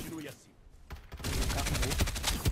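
Gunfire in the battle royale video game Farlight 84: a short burst of rapid shots fires in the second half, loud and close, after a brief quieter stretch with some game sound.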